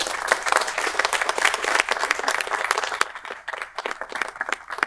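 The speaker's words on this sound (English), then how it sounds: "We should give him a round of applause." People at a county board of supervisors meeting give a round of applause: close, brisk clapping from a modest group that thins into scattered individual claps over its final seconds.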